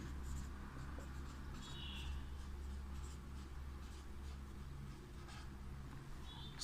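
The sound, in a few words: writing a carbon chain during a chemistry lecture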